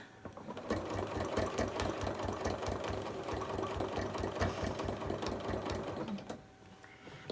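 Sewing machine stitching steadily while ruler fan quilting an apple core runner, a fast, even mechanical rhythm running loud and close for most of the clip before stopping near the end.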